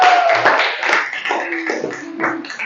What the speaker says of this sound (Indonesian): Berilah tepuk tangan kepada kita semua.